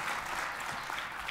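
An audience at an academic conference panel on populism, religion and race applauds its presenters, a steady, dense wash of clapping from many hands that carries on unbroken at moderate level.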